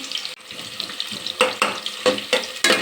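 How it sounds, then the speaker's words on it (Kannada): Onions frying in oil for biryani, a close hiss and sputter punctuated by a rhythmic series of spatula scrapes and stirs, loud and near, no voices. "ಸ್ವಲ್ಪ ಈರುಳ್ಳಿ ಹಾಕ್ತಾಯಿದ್ದೀನಿ. ಇವಾಗ ಸ್ವಲ್ಪ ಚೆನ್ನಾಗಿ ಎಣ್ಣೆಯಲ್ಲಿ ಫ್ರೈ ಆಗಲಿ."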